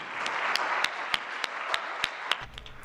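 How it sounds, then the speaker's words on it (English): Sparse, sharp claps ring out in a slow steady rhythm at a public event, close to the microphone over a hissing background, with a low hum entering near the end. "Clap right into that microphone."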